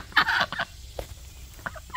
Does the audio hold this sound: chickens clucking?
yes